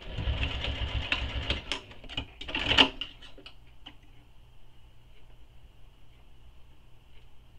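A sewing machine stitches layers of a wristlet together in a fast, close, rattling run that stops abruptly, leaving a quiet hum and a few faint clicks.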